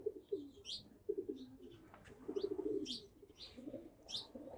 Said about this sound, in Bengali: নাইম আর আবিরের কবুতরগুলো মিলেমিশে একাকার সবাই একসাথে হাঁটাহাঁটি করতেছে